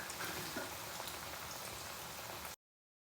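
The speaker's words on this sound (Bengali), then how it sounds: "এরকম গরম মাখন আর সাদা তেল দিয়েছি আমি, ভাজতে হবে একটু কড়া করে" Slices of bread frying in hot butter and white oil, giving a dense, even crackle and spatter throughout that cuts off abruptly into silence.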